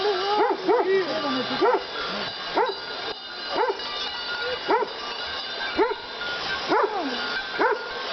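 A dog whimpers and yips repeatedly in high, rising whines, with occasional barks, while people chat softly in the background.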